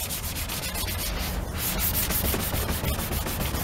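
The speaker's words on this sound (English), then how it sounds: "and we're feathering it right now." Close, steady rubbing of sandpaper on car paint to feather the edge of a repair, a continuous scratchy sanding sound with a brief pause in the middle.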